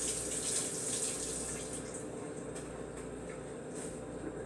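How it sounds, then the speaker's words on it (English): Tap water runs steadily into a kitchen sink while hands are rinsed, a continuous close, moderately loud broadband splash with faint clicks, no talking. "Now I can rinse my hands again."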